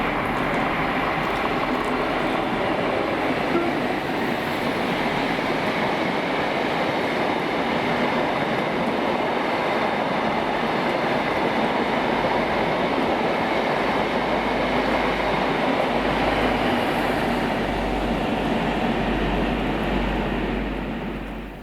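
A Blue Pullman train passes on the Edinburgh Suburban line at Newington, its loud continuous rumble and rail roar holding steady throughout and swelling slightly near the end before easing off, with no voices.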